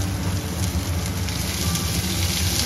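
Chopped onions and garlic fry in hot oil in a pan for a Bengali fish bhuna, giving a steady close sizzle and crackle throughout with no talking.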